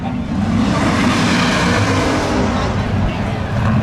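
A Pontiac Trans Am drag racing car at a spectator drags event roars with a loud, dense, steady engine rumble close by, without a break.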